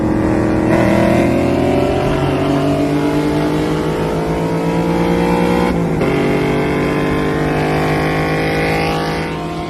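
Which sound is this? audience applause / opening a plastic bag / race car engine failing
race car engine failing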